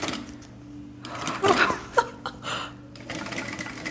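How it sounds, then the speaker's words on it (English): A sewing machine runs right after its bobbin winder has been repaired, stitching in a few short, close bursts of whirring with brief pauses and a light click between them. "I'm going to sew."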